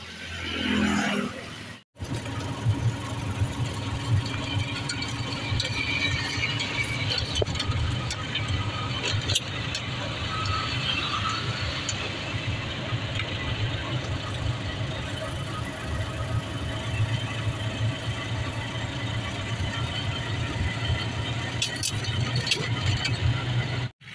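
An auto rickshaw engine runs with a steady low rattling hum during a ride in India, continuous and close for the whole stretch after a brief dropout near the start, with faint Hindi voices now and then.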